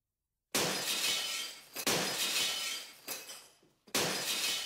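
Glass shattering in a glass repair advert: three loud, sharp bursts of breaking glass, each with a crashing impact that rings and fades, separated by brief gaps and cut off at the end, with no talk.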